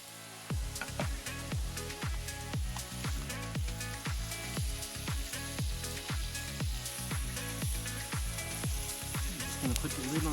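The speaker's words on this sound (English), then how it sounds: "Oh, listen to that sizzle." Steady, loud sizzling of beef for stew frying in a hot pot, a continuous crackling hiss with rapid pops running throughout without pause.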